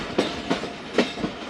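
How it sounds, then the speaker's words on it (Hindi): Train rolling along the rails near Kot Radha Kishan, with a steady clickety-clack of wheels over rail joints in evenly spaced beats, close and fairly clear. "कोट राधा किशन से ट्रेन चली है"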